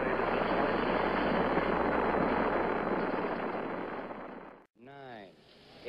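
Saturn V rocket engines roar at the Apollo 14 liftoff with a loud, dense, continuous rumble that fades somewhat before cutting off abruptly, followed by a brief voice.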